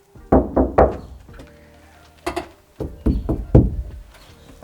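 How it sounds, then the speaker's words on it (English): Knuckle knocks on a van's metal side panel after sound deadening, a series of dull, damped thuds in small clusters of two and three, close and without ring. "do you want to do the knock test from one side to the other?"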